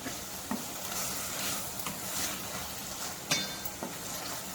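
White lobia beans are stirred with spices in a hot pan, a steady close sizzle running under scattered scrapes and clicks of the spoon against the pan.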